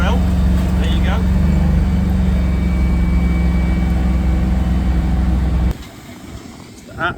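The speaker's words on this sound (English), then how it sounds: "everyone that thinks you need a big tractor to pull a big drill, there you go" A small tractor pulls a big seed drill, its engine droning steadily up close before the sound drops away abruptly near the end, with a voice speaking over it.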